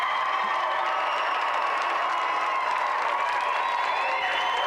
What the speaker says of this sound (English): let's have a final round of applause for our gallant challenger, Kristian Schmid